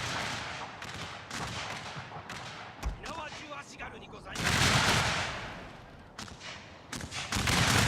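Musket volleys crackle in the Shogun 2 strategy game, bursts of massed gunfire rolling in waves with a heavy sustained barrage midway and again at the end, amid battle noise.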